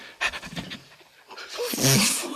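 Quick, breathy panting in short rhythmic bursts, a voice imitating a dog, pausing briefly before a longer, rougher huffing run.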